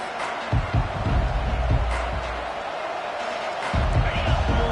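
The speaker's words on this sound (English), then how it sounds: "this home crowd is fired up and ready to make a difference today" A home stadium crowd at a Texas vs. Georgia college football kickoff keeps up a steady, broad roar of cheering, with a commentator talking over it.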